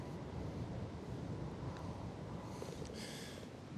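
Steady broadband wind rushes across an open golf course on a cold day, a continuous roar buffeting the microphone with no talk over it.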